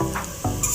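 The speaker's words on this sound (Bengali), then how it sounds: "কেটে রাখা আলুগুলো আমি এখন ভেজে নেব।" Cut potatoes frying in hot mustard oil in a heated wok, a steady close sizzle with a couple of brief stirring scrapes, short and without voices.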